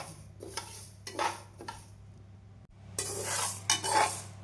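Urad dal and chana dal dry-roasting in a pan for garlic idli podi, with soft scraping and rustling stirs in short bursts and a low hum beneath, quiet and close, without any voices.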